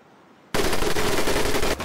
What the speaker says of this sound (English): Now here we have my personal favorite, the M1919A430 caliber machine gun.